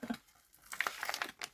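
A small plastic bag torn open at its notch, with a few sharp crinkling rips in quick bursts and a rustle between them, close up and moderately quiet with no talking.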